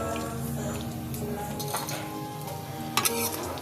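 Fried paneer pieces are lifted out of a pan of hot oil, a soft crackling sizzle running throughout, with a couple of light clinks of the utensil against the pan near the end.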